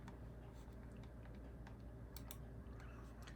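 Quiet keystrokes on a computer keyboard, a run of light irregular clicks and taps heard close but faint over a steady background hum.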